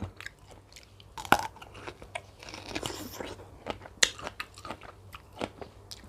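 Someone bites into a crunchy small green peach eaten with chili salt, producing sharp crisp crunches followed by wet, steady chewing close to the microphone, with a few louder bites standing out.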